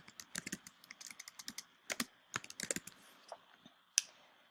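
Close, crisp keystrokes on a computer keyboard come in quick irregular bursts with short pauses, ending in one sharper click, in an otherwise quiet room.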